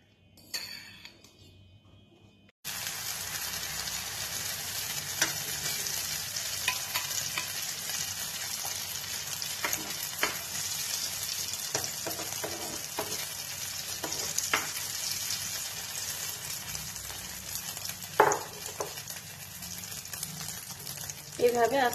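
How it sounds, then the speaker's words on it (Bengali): A vegetable and egg omelette mixture with carrot, capsicum and onion fries in a pan over low heat, a steady close hiss and sizzle running throughout with occasional scrapes and taps. A quieter stretch comes first, before the frying starts. "এবার এটা প্যানে একটু করে ভেজে নেব"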